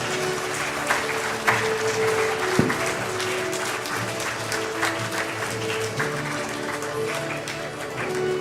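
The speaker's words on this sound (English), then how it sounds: "Let's give them a huge round of applause as they come forward for this prestigious moment." A conference audience gives dignitaries a long, steady round of applause, dense and sustained with a few sharper claps standing out, continuing without speech.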